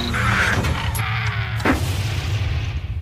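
A grenade blast in a yakuza action film, heard as a loud boom with a crashing impact about two-thirds through, over continuous dense rumbling background noise.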